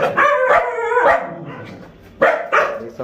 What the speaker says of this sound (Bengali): এদিকে হচ্ছে কুকুর।